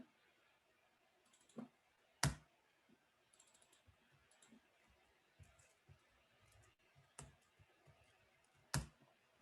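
A computer keyboard clicks in scattered, sparse keystrokes with a few sharper, louder taps, all faint against a quiet room.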